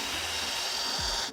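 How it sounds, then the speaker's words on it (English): A hand drill boring into a carrot, a rough continuous grinding and rasping scrape at low volume with a brief deeper rumble near the end before it stops, no voices. "Oh, now I'm just drilling."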